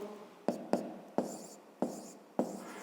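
Ballpoint pen writing numbers on paper while solving a fifth-grade division problem: five crisp taps of the pen striking the page, each trailing into a short, light scratch, close and quiet with no one speaking.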